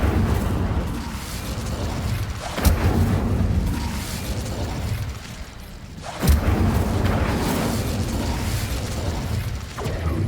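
Incendio fire spell cast in Hogwarts Legacy: a steady magical whooshing rumble with two sharp bursts a few seconds apart, each flaring loudly then settling back into continuous crackling mechanical noise, with no talk.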